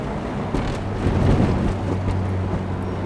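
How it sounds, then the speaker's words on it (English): A Honda Civic Si rolls smoothly over railroad tracks, a steady low road rumble and engine hum with a few soft thumps as the wheels cross, free of rubbing or scraping. "listen to how smooth it is when we go over these railroad tracks"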